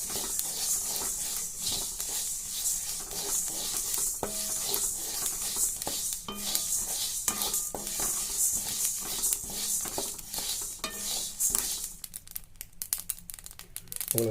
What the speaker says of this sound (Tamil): அதாவது 2 நிமிஷம் வறுத்திங்கனாலே போதும். அந்த சவுண்டு வருது.